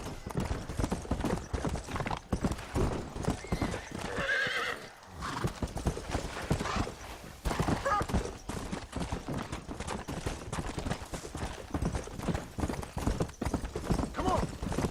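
A horse in the Red Dead Redemption video game gallops with quick, continuous hoofbeats and lets out a loud neigh partway through, while gunfire crackles in the background and voices talk over it.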